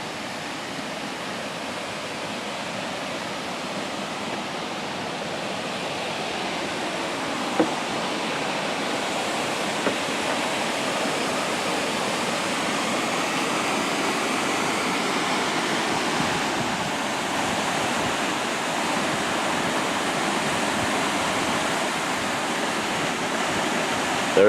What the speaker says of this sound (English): The Potato Falls, Potato River Falls.